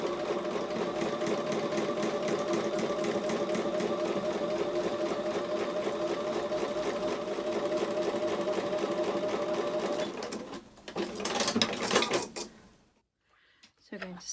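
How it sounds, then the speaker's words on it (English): A sewing machine stitches the final seam of a quilt block in a steady, continuous rapid whir for about ten seconds, then stops with a few short bursts and handling clatter before going quiet. "I'm going to take that over to the sewing machine for the final seam"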